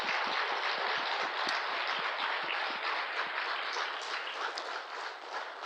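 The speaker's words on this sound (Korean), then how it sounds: "우리 박수 한번 하고" A Korean Methodist church congregation claps together in a loud, sustained burst of applause, individual claps audible early on before the sound thins and fades toward the end.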